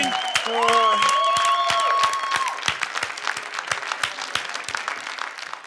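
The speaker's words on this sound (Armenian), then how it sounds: "Շնորհակալ եմ Բորիսին բարձր ծափարություններ։" A studio audience at the Kaskaceli Ereko evening show bursts into sustained applause, dense and loud at first with a voice over it, then thinning into scattered claps.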